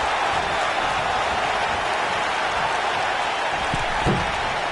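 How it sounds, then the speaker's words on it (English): A steady, dense roar of a large wrestling arena crowd cheering in the WWE 2K19 video game, continuous broadband noise without pauses, with a brief thump near the end. "Listen to this crowd."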